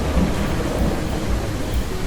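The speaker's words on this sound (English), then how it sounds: "So now we have thunder effects as well." Thunderstorm ambience from a video game weather system: continuous heavy rain hiss layered over a low, rolling rumble of thunder, steady and full throughout with no voices.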